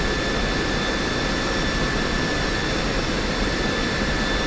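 An F-16C in SoloTürk livery taxis in Digital Combat Simulator, its jet engine giving a loud, unbroken roar with a steady high whine, with no other sounds.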